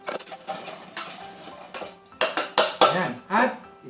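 Fried banana maruya being stirred with sugar, with repeated scraping and clinking of a utensil against a pan in uneven bursts, louder toward the end, alongside a few spoken sounds.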